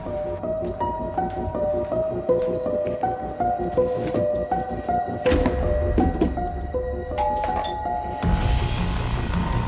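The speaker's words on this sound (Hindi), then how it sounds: "ये डोरबेल किसने बजा दी?" A melodic electronic doorbell chime plays a stepped tune of clear tones, ending in a burst of rustling noise.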